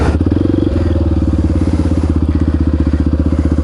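A Honda XR650R supermoto single-cylinder engine lugs well below idle, close and loud, with slow, heavy, uneven thumping pulses.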